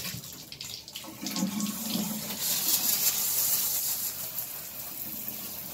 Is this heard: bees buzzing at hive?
no